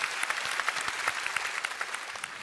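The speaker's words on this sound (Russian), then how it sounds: "Под ваши аплодисменты." Studio audience on a Russian TV game show applauds steadily, dense clapping filling the whole moment at moderate loudness with no voices over it.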